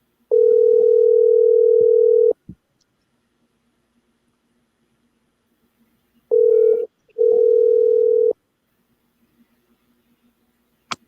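A telephone line rings out while a radio guest is being called: a long steady tone, a pause of several seconds, then two shorter tones close together, heard clearly and alone with no talk.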